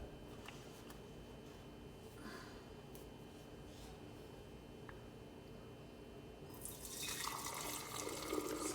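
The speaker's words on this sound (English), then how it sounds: "I'm going to pour it into these jars" Homemade cream cheese milk mixture is poured into jars. A quiet room hum comes first, then a louder splashing pour starts near the end.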